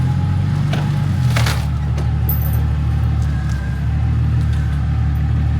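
The engine of a Jeep XJ idles loudly and steadily as it is driven off a trailer, a deep continuous rumble up close with a slight rise in revs partway through.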